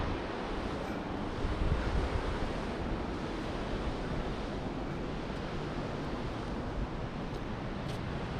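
The Saraswati river rushes at Mana village as a continuous broadband roar of flowing water, steady and moderately loud with some wind, and no voices.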